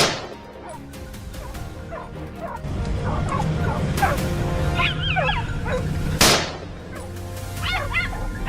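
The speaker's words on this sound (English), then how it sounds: "the sound of the hunting dogs echoed once again" Hunting dogs bark and yelp during a wild boar hunt in the woods, with repeated sharp barks and whining cries at middle distance, growing busier partway through, and a loud thump near the end.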